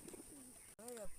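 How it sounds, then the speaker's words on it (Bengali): Pigeons settle after landing and give soft, low cooing calls, a couple of brief coos followed by a longer rolling one, close by over a faint steady hiss in the background. "আস্তে আস্তে পায়রা লেবে আসছে"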